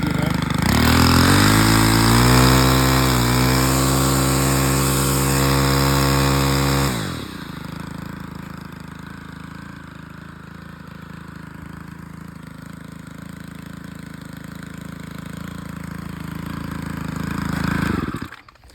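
A gas-powered yard tool engine runs loud at high throttle with a buzzing, vibrating whine, then drops abruptly to a quieter idle and slowly revs back up near the end, close and alone without talk.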